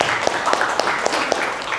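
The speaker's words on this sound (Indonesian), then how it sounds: "tepuk tangan untuk kalian semua." A classroom of schoolchildren clapping together, a dense steady wash of applause with a few sharper claps standing out, loud and close, with voices mixed in.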